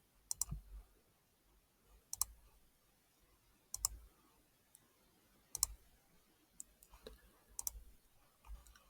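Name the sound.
computer mouse clicking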